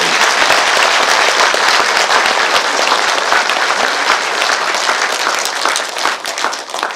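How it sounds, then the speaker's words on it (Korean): An audience at a Buddhist dharma gathering applauds loudly and steadily, with dense clapping that thins slightly near the end. "박수 크게 한번 보내주세요"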